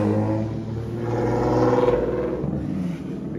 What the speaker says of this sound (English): I guess other loud cars in the neighborhood.